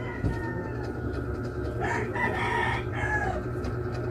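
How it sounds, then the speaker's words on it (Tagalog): A rooster crows in the morning in the background over a low steady hum, with a few clucks from nearby chickens. "Manok ang background kaya syempre buntag nga mata na mga tao and ang manok mo ang alarm clock"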